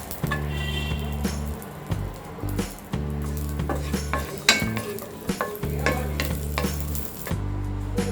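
Raisins fry in oil in a pan, a steady close sizzle broken by repeated stirring scrapes and clinks of a spoon against the metal, with no voices.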